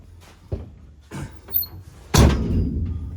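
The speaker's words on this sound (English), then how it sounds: "We should be able to get the door to close." Several hollow knocks and thuds build up to one heavy slam as the door of an overland build vehicle, the Danger Ranger 9000, is pushed shut. Each impact rings briefly before the loud final closing.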